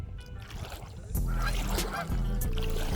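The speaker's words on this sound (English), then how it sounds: "Bunch of Canadian geese over here just taking a look and seeing us as well." Canada geese honk from close range along the North Platte River in Wyoming: a run of loud, repeated calls with stacked harmonics, clustered and overlapping, over steady water and outdoor background noise.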